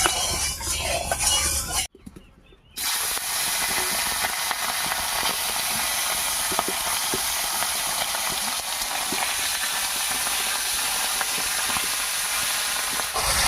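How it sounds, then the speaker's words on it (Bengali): Tangra fish frying in hot mustard oil, a loud steady hissing sizzle that briefly cuts out early on before resuming strongly and continuing without talk. "তেলটা গরম হয়ে গেছে এবার মাছগুলো ভেজে নেবো"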